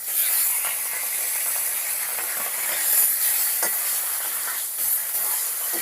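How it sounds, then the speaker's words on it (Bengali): Fish fried on both sides in hot oil gives a steady, fairly loud broadband sizzle and hiss with a few sharper crackles and pops, with no talking. "দু পিঠ ভেজে নিচ্ছি মাছগুলো"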